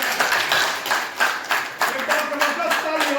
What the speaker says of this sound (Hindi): जोरदार तालियों से स्वागत किया।